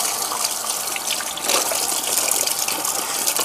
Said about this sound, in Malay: lepas tu kita masukkan air.